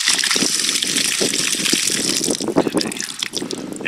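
Water gushes steadily and loudly from a hose or tap while sand is washed, a continuous rushing, splashing stream with shifting turbulence and no voices.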